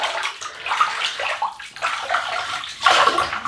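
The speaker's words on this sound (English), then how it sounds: "We'll wet this face and we'll get going." Water splashes and sloshes in close, irregular bursts as a face is wetted with hands before a shave with a Gillette Aristocrat double-edge razor, with no talk over it.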